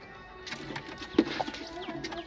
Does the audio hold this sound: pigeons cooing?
yes